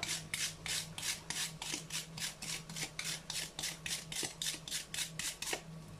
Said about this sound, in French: je vais en râper un petit peu pour mettre